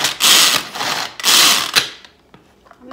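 As Seen On TV Crank Chop hand-cranked chopper working through string cheese: two loud, rough grinding bursts of rapid cranking, then quieter scattered clicks and rattles as the mechanism slows.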